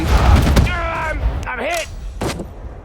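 Gunfire and explosive thumps in the World War II strategy game Sudden Strike 4 on a Pacific battlefield, loud bursts mixed with shouted soldier voice lines and chatter.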